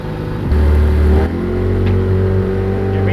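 The outboard motor of a homemade boat drones steadily on the water, loud and close, with a brief louder surge early on before settling into an even hum.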